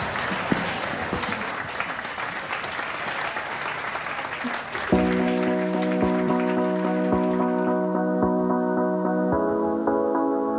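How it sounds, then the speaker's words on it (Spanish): A television studio audience applauds for several seconds, a dense, steady clatter of clapping. A sustained musical tone comes in over the clapping partway through. "Fuerte el aplauso, chiquillos."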